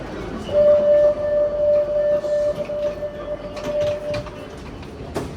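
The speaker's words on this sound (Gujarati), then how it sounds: "આવી ગઈ છે ટ્રેન." A train pulling into a Barcelona station, with a steady rumble of the cars and a long, sustained high brake squeal that holds for several seconds before fading, plus a few clanks near the end.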